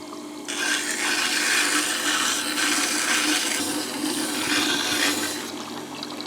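Tormek DF-250 diamond wheel grinding a primary bevel on a Stanley plane blade, a steady loud hissing grind that starts after a brief quiet moment and runs without a break, easing slightly toward the end.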